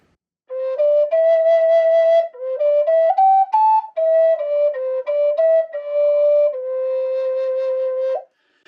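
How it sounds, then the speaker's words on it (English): Mode 2 pentatonic scale played on a wooden A flute starting from C, a clear breathy tone stepping through sustained notes, close and solo with short breaks between phrases. "I'm going to get mode 2. Sounds like this on the A flute"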